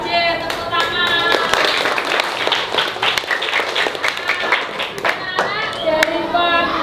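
Grade 4 elementary pupils clap their hands in a classroom, a patterned burst of sharp claps that runs throughout, mixed with children's voices and chanting.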